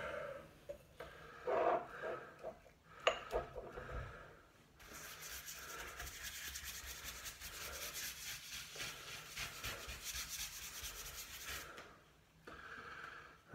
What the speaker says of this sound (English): Just going to give it a little bit of an extra rubber scrubber.